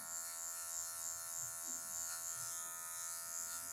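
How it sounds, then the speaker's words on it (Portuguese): An electric hair clipper buzzes steadily and close as its tip removes leftover marks during a taper fade haircut on long hair, a thin constant hum with slight shifts as it touches the hair. "com a ponta da maquininha, ó, vou vir removendo as partezinhas que tiver marcada ainda"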